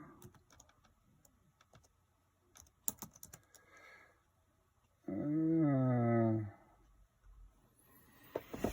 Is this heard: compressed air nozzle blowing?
no